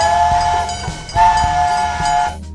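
A train whistle sounds in two sustained blasts over the rhythmic clatter of rolling rail wagons, loud and close.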